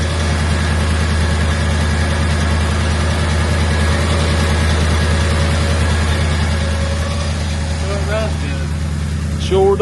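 A 1964 Chevelle engine idles steadily and loudly throughout, a continuous low rumble with a slightly rough exhaust, while a person talks over it briefly near the end.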